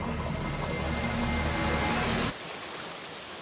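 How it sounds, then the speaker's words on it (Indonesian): Heavy night rain pours down as a steady, dense hiss, heard from inside a bedroom. It stays loud for a couple of seconds, then suddenly drops to a softer wash. "Hujan deras terjadi di malam ini. Suaranya tuh masuk sampai ke kamar Sisi."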